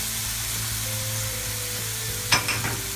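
Okra hits hot oil with seasonings for Trinidad and Tobago coo coo, giving a steady close sizzle, then a few sharp clatters as a spoon stirs the pot.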